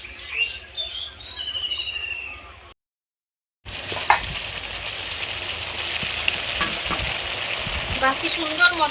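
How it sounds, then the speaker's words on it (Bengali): Spice paste and meat fry and are stirred in a pan, a loud, steady sizzle with scraping stirs. The sizzle breaks off for about a second, then returns, with faint birds or insects behind it. "এইটা দিয়ে আবারও আমি খুব সুন্দর করে কষিয়ে নেব।"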